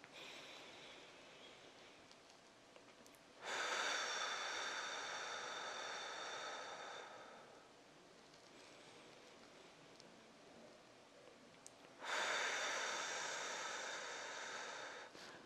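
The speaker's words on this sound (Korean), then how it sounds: "숨 들이마시고 내쉬어 보겠습니다." A person breathes deeply during a breathing exercise for shortness of breath, with two long, loud airy inhalations or exhalations separated by quieter breaths. No one talks.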